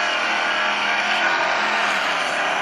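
A car engine revs and roars continuously in a mobile racing game, bright and synthetic with tire-squeal tones, loud and unbroken throughout.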